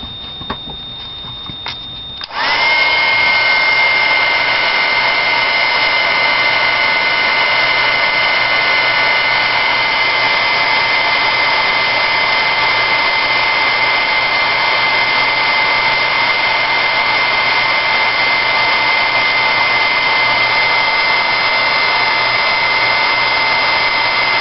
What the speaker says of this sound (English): And then you emboss with your heat gun.